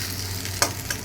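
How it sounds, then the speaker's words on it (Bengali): Pointed gourd (potol) shallow-frying in a small amount of oil gives a steady, soft sizzle, with a couple of sharp clicks from stirring near the end. "অল্প তেলেই কিন্তু পটল ভাজা আমার হয়ে গেল"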